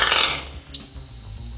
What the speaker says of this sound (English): sorry for that beeping. I was trying to wait for the beeping to finish.